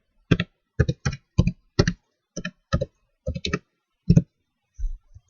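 Someone types a password on a computer keyboard: about ten crisp, close key clicks in uneven rhythm, each a short sharp tap with pauses between, then a soft thump at the end.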